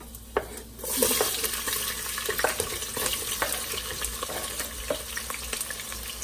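Chopped onions and jalapeños frying in a pan for albóndigas (meatball) soup, a steady close sizzle with occasional scrapes and taps from stirring, continuous throughout.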